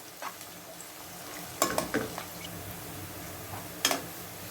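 Soft, steady sizzling of onions frying in a pan toward golden brown, with a few louder scraping stirs breaking through at intervals.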